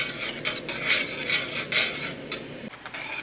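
A spoon stirs a mint jelly mixture in a pot over medium-low heat, making steady scraping and rubbing strokes in uneven bursts, close and fairly loud, with no voices.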